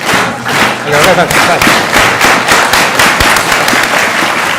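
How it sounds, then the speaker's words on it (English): Audience applause at a national school science fair final, starting as quick, dense clapping and easing into slower, spaced claps, loud and close with a crowd feel throughout. "Fast clap to slow."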